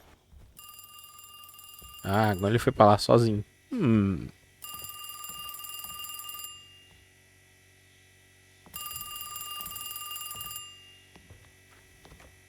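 An old telephone rings in the Alone in the Dark game, two long electronic bursts of ringing separated by a pause, with someone briefly talking before the first ring.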